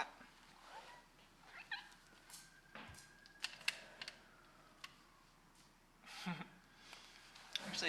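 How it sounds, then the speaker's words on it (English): A cat gives a few soft, short meows amid quiet indoor ticks and tapping, like keyboard clicks. The sounds are faint and sparse, with brief bursts scattered through the clip. "Hey, little cat."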